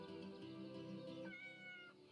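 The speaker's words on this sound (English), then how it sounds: "Dusty's a good name for a black cat." A black cat named Dusty in the video game Yes, Your Grace lets out a clear, drawn-out meow partway through, sounding close over a steady musical background.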